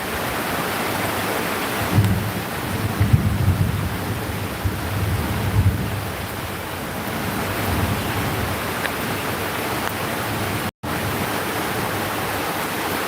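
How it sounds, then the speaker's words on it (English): Heavy rain pours down without a break outdoors on a farm, a dense, loud hiss with a low rumble that holds steady for the whole stretch. "Doesn't look like it's gonna stop raining. Raining pretty good"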